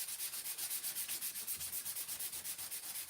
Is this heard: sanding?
yes